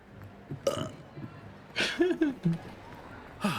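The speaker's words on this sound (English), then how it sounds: "stop burping" A game character in Hogwarts Legacy burps repeatedly, a string of short, close, voiced belches spread across a few seconds, loud and separate, with no other talk around them.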